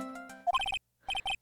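Electronic telephone ring in the Phoenix Wright: Trials and Tribulations game, a few chirpy tones followed by two bursts of rapid repeated beeps with a short gap between, clear and alone.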